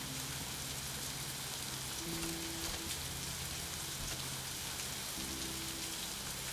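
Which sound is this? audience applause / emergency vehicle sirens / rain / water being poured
rain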